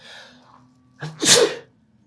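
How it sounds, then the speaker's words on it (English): One sharp sneeze, close and loud, with a brief intake of breath just before it and a faint voice trailing off at the start. "Oh, I'm gonna sneeze."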